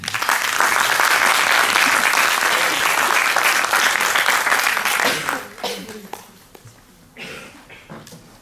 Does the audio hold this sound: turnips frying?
no